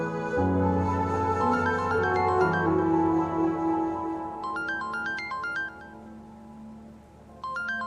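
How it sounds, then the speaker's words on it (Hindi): A melodic phone ringtone plays loudly in a drama scene over a sustained musical background, its bright repeating notes chiming in several bursts. "एक सेकंड, मेरे घर से फोन आ रहा है।"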